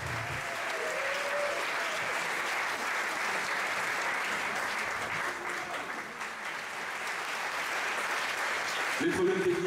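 Audience applause at a live stage show, a steady wash of many hands clapping throughout, moderately loud and sustained, with a voice briefly heard near the start and end.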